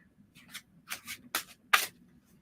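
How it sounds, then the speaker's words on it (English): A tarot deck being shuffled by hand, heard as four or five short papery bursts about every half second, growing louder toward the last sharp riffle, alone against a faint low room hum. "Not going to get this shuffled properly"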